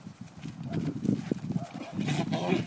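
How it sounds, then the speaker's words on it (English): Angry donkeys fighting nearby, a scuffle of grunts, snorts and trampling hooves in a rough, uneven burst, fairly faint and close, with a voice partly over it. "got some angry fighting donkeys here."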